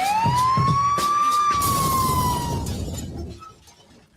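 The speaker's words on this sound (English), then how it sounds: "That's the sound of the police." A police siren swoops upward in one long wail and then trails away over a few seconds, part of a radio show's police report intro. No one speaks over it.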